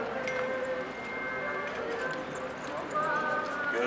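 Akhal-Teke horse hooves clop faintly in the background, steady and continuous beneath someone speaking throughout.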